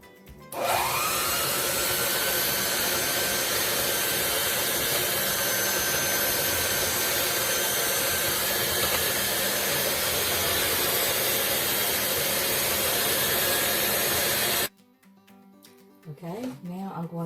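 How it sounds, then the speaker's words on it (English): An electric mixer whirs steadily for about fourteen seconds, beating a dessert batter made with milk until thick, then switches off, leaving faint kitchen sounds. "I'm going to mix it together till it gets thick"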